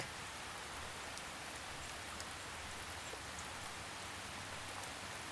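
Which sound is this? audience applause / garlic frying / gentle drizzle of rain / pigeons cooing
gentle drizzle of rain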